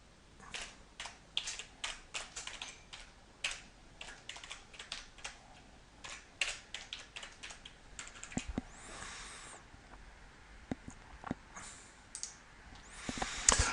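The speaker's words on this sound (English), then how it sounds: "you would then simply start typing" Fingers tap steadily on a computer keyboard, with quick uneven bursts of light clicks and short pauses between words, close and quiet with no one talking.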